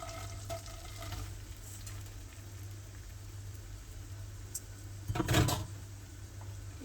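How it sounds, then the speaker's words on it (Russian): Bulgur grains frying in butter in a pan, giving a low, steady sizzle that swells into a brief louder burst of stirring and scraping near the end. "И отправляем сюда наш булгур."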